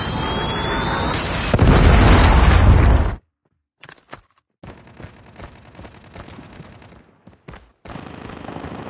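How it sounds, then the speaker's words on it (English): A predator missile strike explodes in a mobile shooter video game: a loud roaring blast that rumbles for about two seconds and cuts off abruptly, followed by quieter scattered shots and rumbles. "Friendly predator missile inbound."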